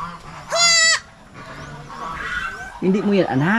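Goats bleat loudly in a farmyard at a kidding, one high wavering cry early on and a lower pair of bleats near the end, with people talking throughout.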